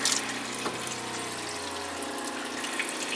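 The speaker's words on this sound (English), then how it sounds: "This is just the water that was left over in the hoses." Leftover water rushes out of a sailboat's freshwater hoses through a galley faucet during winterizing, a steady close hiss and splash with a slight sputter.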